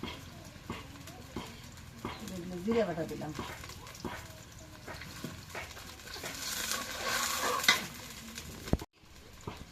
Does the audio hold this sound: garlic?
yes